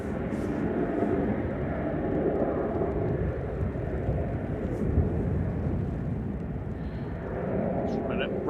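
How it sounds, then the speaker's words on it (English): A Ryanair airliner departs Manchester Airport on a flight to Pisa, producing a broad, continuous jet roar that stays loud and steady throughout, heard from outside at a distance. "Ryanair 5624 to Pisa departing"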